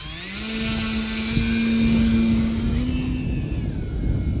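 An Arrows Husky RC model airplane takes off, its electric motor and propeller giving a steady, fairly loud whine that rises slightly in pitch as it gains speed, with breeze noise underneath.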